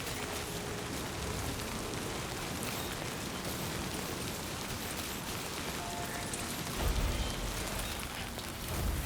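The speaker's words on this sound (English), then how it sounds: "the rain is sound effect is really good. Sounds like real rain" Steady, dense rain from the video game Death Stranding 2 falls continuously as a broad, even hiss with a low rumbling swell near the end.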